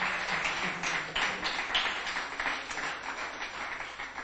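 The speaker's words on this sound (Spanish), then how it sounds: "Dele ese fuerte aplauso al Señor." A church congregation applauds during a service, producing a dense, sustained wash of clapping from many hands that holds steady for several seconds.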